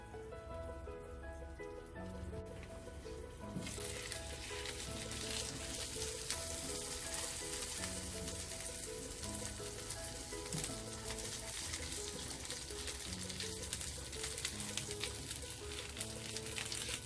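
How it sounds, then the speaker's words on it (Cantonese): A pork patty with salted fish pan-frying, a dense continuous sizzle and crackle that swells louder after a few seconds and then holds steady, with no voices. "咁煎到另外一邊都微黃嘅時候咧，就轉小火， 冚一冚蓋，咁焗熟佢"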